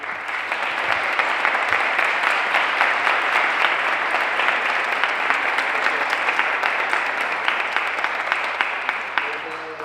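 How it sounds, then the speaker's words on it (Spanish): A crowd applauding steadily at a heritage festival event, loud and sustained dense clapping throughout, with no break and some voices mixed in. "que un aplauso para Mario"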